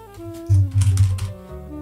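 Quick keystrokes on a computer keyboard while coding a pirate game in Unity 3D, a short cluster of clicks over a low hum of background music, near and fairly soft.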